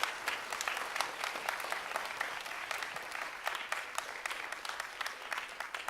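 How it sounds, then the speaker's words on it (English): Audience applause for panelists at a college information event in Houston, a steady dense clapping from a room full of people lasting throughout at moderate level. "Let's give a big round of applause for our panelists."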